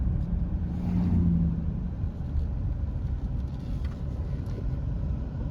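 A 2005 Cadillac DeVille with the Northstar engine running on a test drive: a steady low engine and road rumble from inside the car, smooth and continuous, with no talk.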